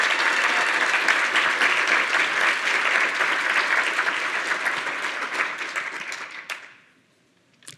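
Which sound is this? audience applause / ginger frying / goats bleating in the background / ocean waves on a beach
audience applause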